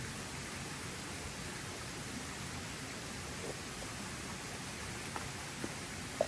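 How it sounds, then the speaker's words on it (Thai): A steady broadband rush of flowing water, like a waterfall fed by rain, fills the whole stretch at a constant even level, with a few faint ticks near the end and no voices. "โอ้เสียงน้ำค่อนข้างจะ ดังนิดหน่อย แต่น้ำเริ่มเบาแล้วนี่นะ"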